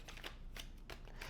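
Tarot cards being shuffled by hand, a soft rhythmic riffling with several brisk bursts of card flutter, fairly faint and close, with no talking.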